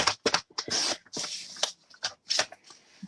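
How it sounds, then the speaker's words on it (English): Scissors trimming a sheet of patterned card paper while making a simple handmade greeting card, giving a series of close, crisp snips and papery rustles in quick bursts with short pauses between them. "So I'm going to trim that off there."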